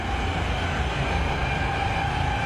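Subway train running through a tunnel, played back as a recording: a dense, steady roar of rail rumble with a sustained metallic screech layered on top, loud and continuous throughout with no voices.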